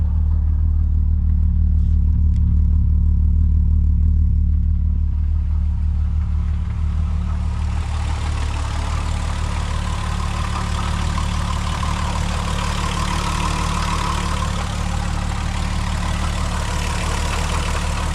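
A VW VR6 engine in a wagon idles steadily and smoothly after a Liqui Moly engine flush and Molygen treatment, a close, even low rumble running unbroken and alone.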